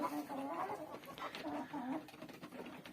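Turkeys and chickens cluck softly and fairly faintly while feeding on mixed wheat and barley, a loose run of short calls with no one speaking.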